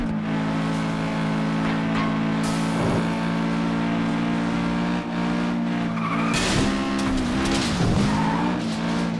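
A race car at full throttle in FlatOut 2 during a street circuit race, its engine droning steadily with pitch swells as tires squeal and skid loudly near the end.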